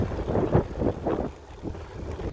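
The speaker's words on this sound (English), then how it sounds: "We got a headwind though." Headwind gusting on the coastal road south of Half Moon Bay toward Santa Cruz, buffeting the microphone of cyclists in low, rumbling waves that swell and ease over a couple of seconds, with no voices.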